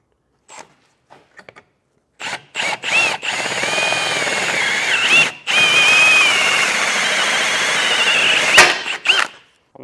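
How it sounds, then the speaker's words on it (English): A power drill with a hole saw whines in several short bursts, then settles into a long steady cutting run through the metal of a 2022 Jeep Grand Cherokee with a high screeching tone. "So I got a hole saw, just made a mark there where I want to drill"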